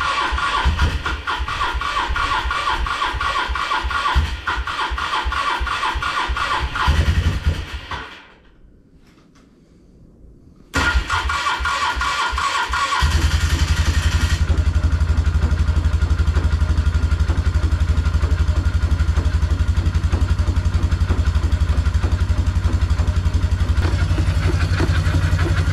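A Polaris Trail Boss ATV in the snow cranks and sputters, goes briefly quiet, then catches and settles into a loud, rough idle with a rattling, clattery rhythm, close by with no talk.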